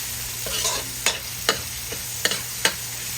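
Ingredients for Filipino pochero are stirred and sautéed in a hot pan, a steady sizzle broken by several sharp scraping strokes of the spatula, close and loud with no talk.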